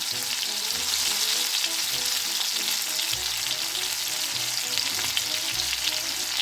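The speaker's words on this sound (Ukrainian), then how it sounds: "Так смажимо десь одну хвилинку, менше часу, ніж під кришкою." Continuous close-up sizzling and crackling of battered chicken nuggets frying in oil over medium-high heat, even and unbroken throughout.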